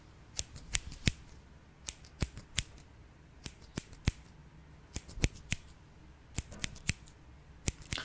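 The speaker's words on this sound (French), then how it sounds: "Ciseaux roses fonctionnent toujours." Sharp metallic snips of pink scissors, in quick clusters of two or three with short pauses between, crisp and close against a quiet background.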